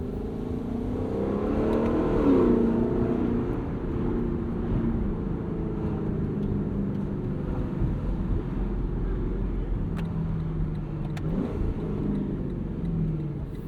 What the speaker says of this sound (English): You can still enjoy this car at low speeds. You can enjoy the noise of it.